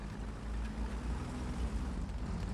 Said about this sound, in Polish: ten silnik to chyba troszeczkę za blisko względem tego, co jest na minimapie